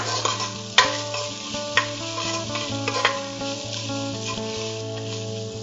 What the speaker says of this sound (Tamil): ஓகே, பீன்ஸ் போட்டுட்டு அதையும் ஃபர்ஸ்ட் வதக்கி விட்டுடலாம்.